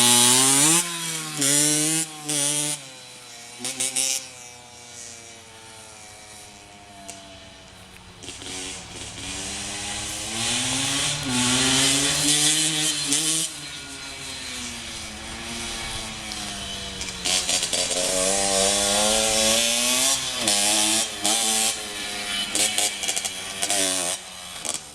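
A small children's motorbike engine buzzes steadily as a youngster rides it, its whiny pitch rising and falling with throttle changes over a continuous, fairly close run.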